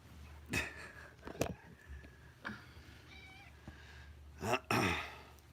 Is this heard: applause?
no